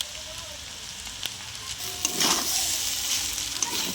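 Egg chicken chow mein sizzles in a hot pan as soy sauce and spices go in, a bright close hiss that swells midway with stirring clinks and scrapes.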